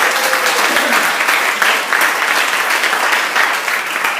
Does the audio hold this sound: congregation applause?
yes